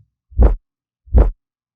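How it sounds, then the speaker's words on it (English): Two deep, rounded low-end swells rise and fade one after another, each lasting about a quarter second, clean and isolated against silence. "they're doing a cool little low-end swell"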